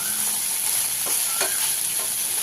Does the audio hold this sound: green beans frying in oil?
yes